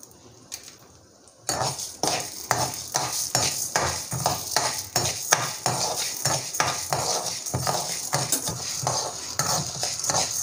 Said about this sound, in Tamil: இப்போ கொஞ்சம் எண்ணெய் விட்டு உளுத்தம்பருப்பு வறுக்க போகிறேன்.